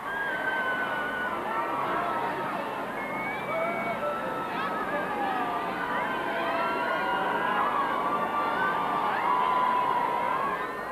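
Crowds gathered outside Clarence House for a royal wedding cheer and shout in a sustained, far-off roar of many voices, with whistles and children's cries rising over the steady hubbub.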